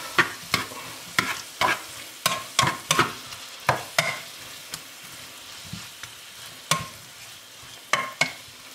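Repeated scraping stirs and a steady sizzle of tomato paste frying in a pan for pork goulash, close up, with irregular strokes every half second or so and no talk.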